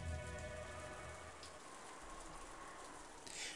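Steady rain on a dark night in the Umineko video game, a soft continuous patter under a faint sustained musical tone, quiet throughout and with no one talking.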